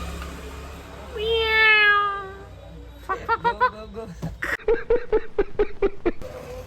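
A cat gives one long, rising-and-falling meow, close by, followed by a stretch of quick, rhythmic laughter-like vocal bursts.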